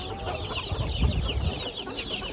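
Chickens cluck in a crowded poultry market in Ankara, where young hens and chicks are on sale, with steady overlapping clucks over a busy low rumble of market noise.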